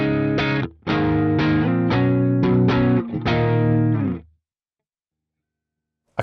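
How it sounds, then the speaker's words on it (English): Electric guitar transposed down one semitone in the Archetype Plini X plugin, with a quick run of distorted, effected strummed chords that cuts off abruptly, followed by silence. "Now, if I set the transpose to"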